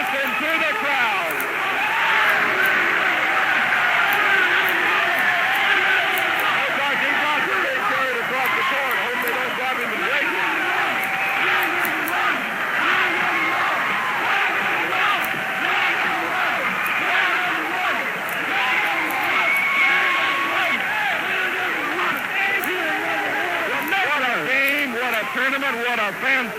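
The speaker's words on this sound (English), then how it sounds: "And listen to the crowd." A roaring crowd celebrates the Bacon County Red Raiders winning the 1973 GHSA state championship game. The cheering is a dense, steady wall of sound that lasts the whole time, with a radio announcer talking over it.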